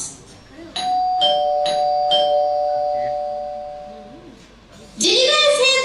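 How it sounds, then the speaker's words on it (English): A two-tone doorbell rings in a home, a few quick bright dings followed by a sustained ringing tone that fades, before a voice breaks in loudly at the end. "Did you guys hear the doorbell just like I did?"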